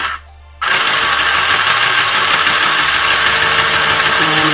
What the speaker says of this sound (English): it's going to be on handheld, and everything is in position